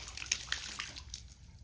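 A bucket drops into the water of a well, giving a few soft splashes and sloshing sounds followed by fading ripples, quiet and somewhat distant.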